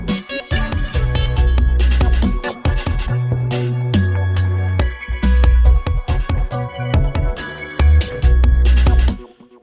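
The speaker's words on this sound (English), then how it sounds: "I'm using the improvisation key to create a kind of a little feel of breaks" A looped pop track from Audiofier XTYLES with improvised breaks, punchy drums and bass playing loud and close, cut into stop-start chunks with brief gaps and dropouts.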